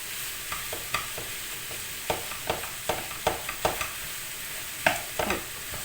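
Onions sauté in hot oil in a pan for a minced-meat börek filling. A soft, steady sizzle runs underneath, and a spoon scrapes and stirs through the pan at irregular intervals.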